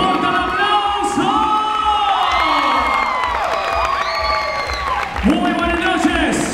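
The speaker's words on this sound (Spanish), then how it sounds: "¡Fuerte el aplauso!" A crowd at a fashion-school graduation show cheers, whoops and applauds loudly and continuously, with excited voices shouting over the clapping throughout.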